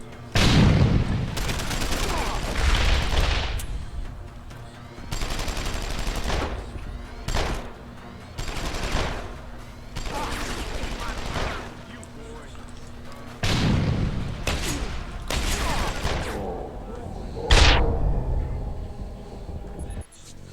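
A first boss fight in Deus Ex: Human Revolution sets off a string of heavy booming explosions. The blasts come in repeated loud bursts with short gaps between them, and a voice is faintly mixed in.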